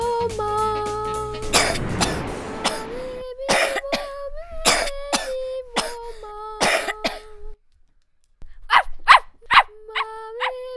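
A dog barks in sharp, repeated bursts, mixed with a person's coughing, over a steady tonal background.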